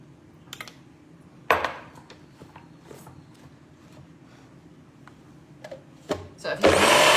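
A blender mixing mayonnaise as it thickens, its motor whirring low and steady under clinks and knocks, ending in a loud burst of blending.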